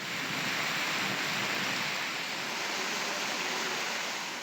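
Heavy rain pours steadily in the Alangudi area of Tamil Nadu, with rainwater flooding down the roads in a dense, unbroken wash of hiss and rushing water.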